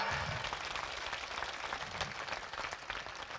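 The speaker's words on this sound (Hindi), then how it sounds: "एक बार ताली बजा दीजिए पंडा जी के लिए" Faint, distant-sounding crowd applause rolls on evenly at a religious katha gathering, a steady patter of many hands with no voices over it.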